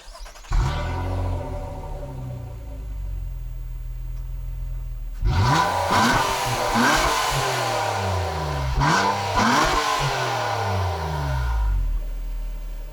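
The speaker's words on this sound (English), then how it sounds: "it has that typical VQ snarl that also sounds good." A 2019 Nissan Maxima's VQ V6 engine idles, then revs up twice in strong rising bursts, snarling loudly before dropping back to a steady idle.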